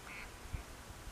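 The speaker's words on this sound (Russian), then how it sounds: "Слышали, как утка крякает?" A single flying duck quacks faintly, short nasal calls over a quiet hiss of outdoor background.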